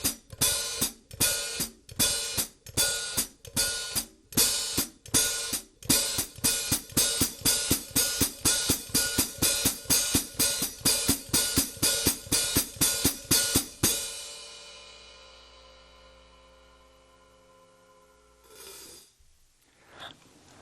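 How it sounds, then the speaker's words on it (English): Drum hi-hat worked with foot splash technique, the pedal snapping open and closed in a fast steady series of crisp, loud metallic splashes for about fourteen seconds before the cymbal rings out and fades to near silence. "try to add the element of hi-hat foot splashing"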